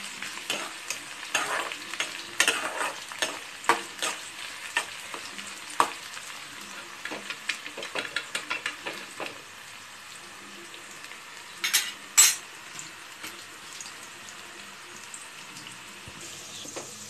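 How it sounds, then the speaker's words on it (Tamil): Chopped onions sauté in hot oil for a Tamil pepper kuzhambu, with a soft steady sizzle broken by frequent scraping strokes of a spoon against the pan, close by and without any voices. "நல்லா வதங்கட்டும். இந்த வெங்காயம் வந்து கொஞ்சம் பொன்னிறமா மாறணும்."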